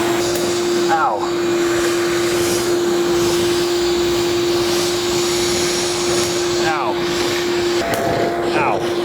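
A wet/dry shop vacuum runs steadily and loudly throughout, its motor whine holding a constant pitch, with brief clatters of debris being sucked up and a voice speaking over it near the end.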